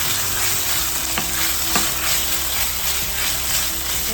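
Onions, ginger and garlic fry and sizzle in a pan, a constant close crackle with a spoon stirring and scraping, a couple of sharper knocks against the pan, no voices.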